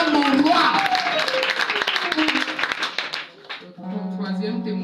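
A church congregation applauds and cheers loudly over worship singing, the clapping fading after a few seconds into quieter music and voices.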